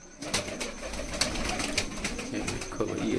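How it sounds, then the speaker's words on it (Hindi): Red chinni pigeons, Malwai breed, coo softly and repeatedly at close range amid a busy background of flutters and taps, with no one speaking. "लाल चिन्नी कबूतर, ये कबूतर है तो दिखाओ भाई ये लाल चिन्ना कबूतर दिखाओ"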